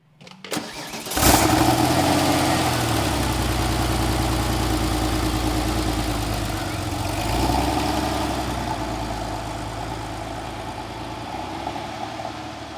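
A Porsche 993, the last air-cooled 911, cranks briefly and fires up with a loud flaring rev, then settles into a steady, throbbing idle with a slight rise in revs midway, heard up close with no talk.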